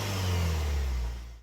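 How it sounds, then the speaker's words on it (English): A Cadillac XT4 small SUV revs its engine, recorded from the rear exhaust: a steady, loud, close mid-pitched engine drone that holds briefly and then drops away. "We'll still put a clip of the exhaust from the back"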